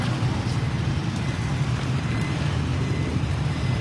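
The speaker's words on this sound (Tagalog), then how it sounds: "Grabe, traffic." Steady road traffic rumble on a busy street, heard while walking home from school, with a continuous low drone of passing cars, buses and trucks and no talking.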